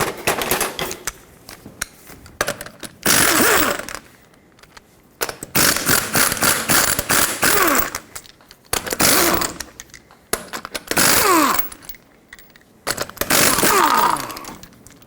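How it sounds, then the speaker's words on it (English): Socket ratchet or impact tool spinning off the five 21mm lug nuts on a 1995-2004 Toyota Tacoma front wheel, loud rattling bursts of several seconds each, separated by short pauses, close by with no talk. "Now you can use a regular size socket to get all the 5 21mm lug nuts off."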